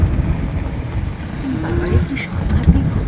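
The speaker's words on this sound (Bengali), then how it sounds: "বৃষ্টি পড়ছে সাংঘাতিক" Dense, loud broadband roar of heavy rain during a storm on a village road, steady throughout, with low rumbling underneath and faint tonal traces.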